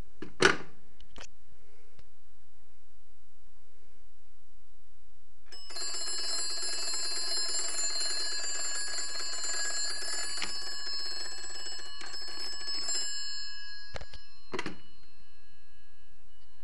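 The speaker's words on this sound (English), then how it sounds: "He called back, so I can hear my bells ring." An old magneto telephone intercom bell rings in a long, continuous metallic jangle for several seconds, preceded and followed by a few sharp clicks and knocks.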